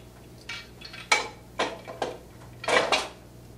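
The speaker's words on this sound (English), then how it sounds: "you may now remove the 4 nuts on the press studs at the center of the reel, as I am about to do here" Nuts come off the press studs at the centre of a Reelcraft hose reel: a handful of sharp, close metallic clinks and scrapes, spaced irregularly against quiet background hum.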